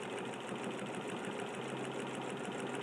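A sewing machine stitching with a free motion foot while outlining a leaf in quilting, a steady fast mechanical whir with even needle pulses running continuously throughout at close range.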